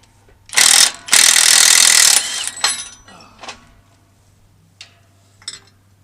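An impact wrench works a U-bolt on a truck during a roadside breakdown repair: two loud, close bursts of rattling hammering, the second longer, followed by fainter clanks and taps of tools with no talk.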